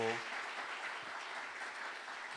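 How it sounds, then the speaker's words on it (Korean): A church congregation applauds a men's vocal ensemble at a Holy Week night prayer service, even, fairly quiet clapping after a brief tonal voice at the start. "우리 남성 중창단 우리 박수로 한번 격려해 주시고요"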